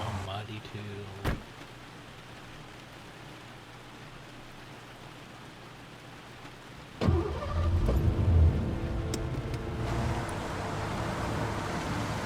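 A car driving in rainy weather in the video game Heavy Rain, a low engine hum under steady rain that swells louder after a sharp thud midway, with a brief click early on.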